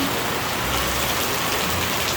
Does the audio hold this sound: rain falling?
yes